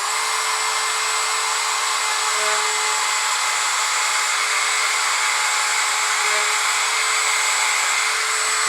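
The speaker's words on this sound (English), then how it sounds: "use a Dremel with a drum on it to kind of do flats" A Dremel rotary tool fitted with a sanding drum grinds flats onto a small piece of scrap wood being shaped into a bird, giving a steady, loud, high-pitched whine that runs unbroken the whole time with no talking.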